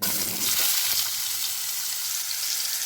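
Cut potatoes drop into hot oil seasoned with black cumin, giving a loud, close, continuous hiss of sizzling that stays dense and even throughout, with no talk over it.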